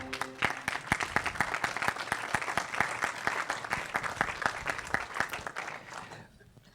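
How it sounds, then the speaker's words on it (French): Audience applause after a talk by Jean Jouzel on adapting to climate change; a modest crowd claps in sparse, distinct hand strikes that thin out and stop near the end, with a voice briefly present. "Vous pouvez l'applaudir si vous avez envie."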